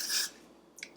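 Two short hissing bursts of Paul Mitchell flexible hold hairspray misted onto a strand of hair, the first longer and stronger, the second brief and softer, close up in a quiet room.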